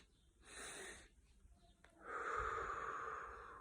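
Deep breaths drawn in to fill the lungs during a natural breathing exercise: a first audible inhale, a pause, then a longer, breathy second inhale completing the breath, close and soft, with no talking.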